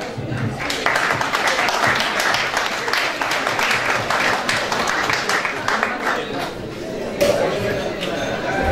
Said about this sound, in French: On l'accompagne d'applaudissements